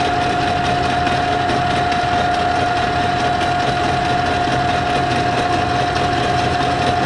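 A metal lathe turns a workpiece at 715 RPM with a 5.2 thousandths feed, making a loud, steady mechanical drone with a constant whine running unbroken throughout.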